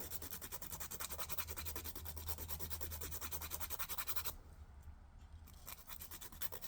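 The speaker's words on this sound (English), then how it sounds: "And then the little file. So I'm going to use the coarser side." The coarse side of a small nail file rubs gel nails in a fast, steady back-and-forth rhythm, close and faint, with a brief break partway through and no talk.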